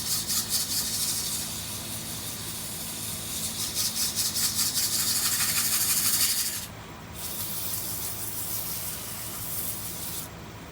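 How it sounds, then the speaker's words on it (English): A steady, hissing abrasive rasp of sanding a wooden bowl spinning on a lathe, continuous with a brief pause midway and another near the end. "I think that's good on my sanding."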